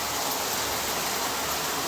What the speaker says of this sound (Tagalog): Ayan, buhos na naman ng ulan.